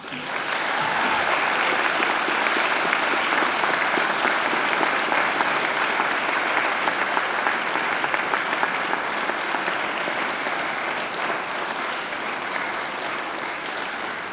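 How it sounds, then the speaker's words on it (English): Graduates at a Macquarie University graduation ceremony turn and applaud their families and friends, a long, loud, dense wave of clapping from a large hall crowd that holds steady before easing slightly. "And now I invite you to give them a mighty round of applause."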